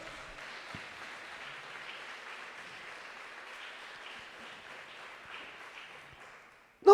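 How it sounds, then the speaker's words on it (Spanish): A church congregation applauds as a steady, dense wash of clapping from many hands that holds for almost seven seconds, with a sharp loud sound at the very end. "Dele fuerte ese aplauso al Señor."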